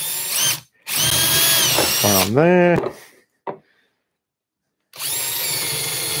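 A power drill bores 4mm screw holes through wood for an Adirondack chair bracket, giving a loud, close whine in two bursts with a short speed ramp, and a brief spoken remark after them.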